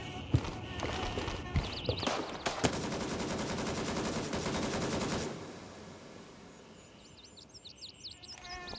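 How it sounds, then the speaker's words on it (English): Assault rifle fire in the shooter game Gray Zone Warfare, with scattered sharp single shots followed by a dense sustained burst of automatic fire that cuts off, then quieter game ambience. "Here's a clip where I solo him using an assault rifle."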